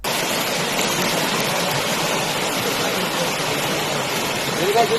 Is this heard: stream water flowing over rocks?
yes